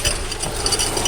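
Grinding, ratcheting mechanical whir from a Toyota Tacoma transfer case in two-wheel drive, a steady close rattling drone with faint clicks throughout, no voices.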